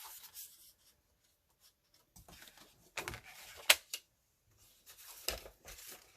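Card paper being cut for a triangle fold card, with soft intermittent scraping and snipping strokes in short bursts separated by quiet pauses, close and fairly faint.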